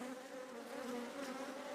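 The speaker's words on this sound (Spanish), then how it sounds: "Cómo están haciendo esa columna de abejas colgando para estirar toda la cera del cuadro." Honeybees hang in a column drawing out fresh white wax on a hive frame, giving off a steady, close, even buzzing hum that holds without a break.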